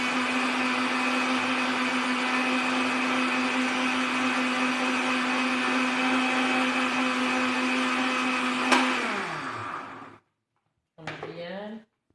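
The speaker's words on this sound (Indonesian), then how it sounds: "Blender sampai halus." A blender whirs coconut water with tempe until smooth for a pudding, a loud, steady motor roar that runs for about nine seconds, then spins down and stops, followed by a short burst of speech.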